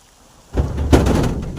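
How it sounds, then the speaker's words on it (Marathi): Steady rain without wind begins falling about half a second in, a broad hiss that rises and stays level to the end. "वातावरण बदललंय, वारा नाही, फक्त पाऊस आहे"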